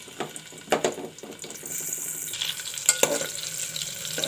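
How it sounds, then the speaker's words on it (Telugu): Cut bitter gourd pieces fry in hot oil in a pressure cooker, a bubbling sizzle with stirring clatter early on, settling into a steadier hiss. "ఆయిల్ హీట్ అయ్యాక ఇందాక మనం కట్ చేసి పెట్టుకున్న కాకరకాయ వేసుకొని ఫ్రై చేసుకోవాలి"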